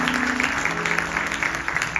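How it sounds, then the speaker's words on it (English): An audience at a Ganesh Chaturthi festival gathering applauds, a brief steady wash of clapping over a low sustained hum, with no talk above it. "Give my brother a round of applause."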